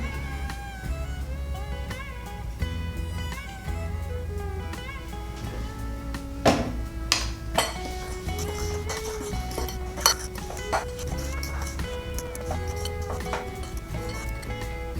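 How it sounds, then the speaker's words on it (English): Graham cracker crumbs stirred with melted butter and sugar in a bowl, a run of close scraping and clinking spoon strokes over a steady low hum, with louder knocks near the middle and no talk. "Then we're just going to add 7 tablespoons of melted butter. Go. And we're going to stir that."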